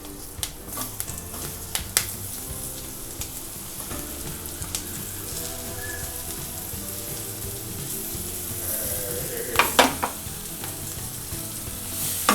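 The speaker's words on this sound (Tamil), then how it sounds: "வெங்காயம் வந்து நல்லா வதங்கட்டும்." Onions sautéing with ginger and garlic in a pan, a continuous loud sizzle with utensil scrapes and stirring clinks throughout, and a few sharper knocks toward the end.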